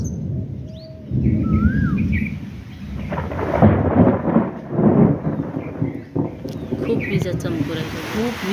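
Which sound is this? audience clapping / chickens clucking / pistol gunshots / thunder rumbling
thunder rumbling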